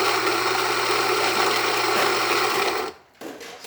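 A Rocky coffee grinder runs with a loud, close mechanical whirr and rattle as its chambers are emptied, cutting out abruptly near the end before a brief restart.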